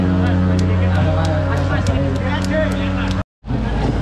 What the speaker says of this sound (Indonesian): ayo motor yang kencang